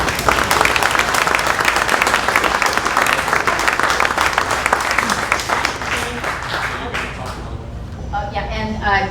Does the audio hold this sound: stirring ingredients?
no